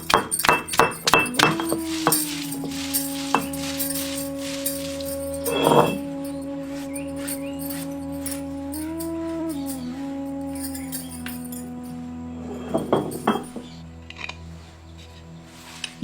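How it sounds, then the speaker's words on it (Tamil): Cumin, pepper, garlic and shallots ground by hand on a traditional stone grinder, with clinks and sharp knocks of stone on stone in bursts at the start and again near the middle and end, over a steady background hum. "அம்மியிலேயே வச்சு அரைச்சு எடுத்துக்குவோம்"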